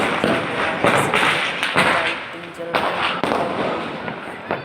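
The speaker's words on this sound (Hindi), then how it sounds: "पटाखे जल रहे हैं" Firecrackers bursting on a rooftop on Diwali evening, a dense, continuous crackle of broadband pops and thuds close by, with voices faintly mixed in.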